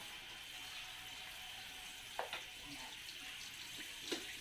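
Water trickles and drains from washed macaroni in a kitchen, a faint steady running wash with a few soft splashes and clinks, heard close and alone.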